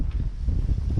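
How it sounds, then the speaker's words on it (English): Strong outdoor wind buffets the microphone in steady low rumbling gusts during work on a Toyota Tacoma Fabtech 6-inch lift, with no voice in this moment. "It's really windy, it's really hard to hear me"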